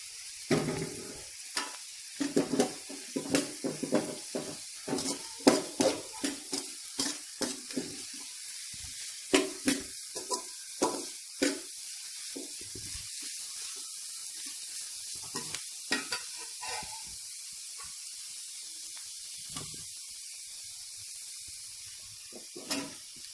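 Green chillies frying in a pan for veg noodles, a soft steady sizzle under repeated clattering stirring strokes, close by and fairly quiet, the stirring thinning out toward the end.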